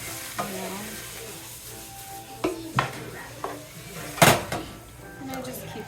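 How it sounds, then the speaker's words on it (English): Garlic stir-fries in a pan for Puerto Rican arroz con gandules, a soft sizzle underneath with a series of sharp utensil scrapes and clanks against the pan, one louder clatter near the end, while a person talks at intervals. "And I just keep stir frying."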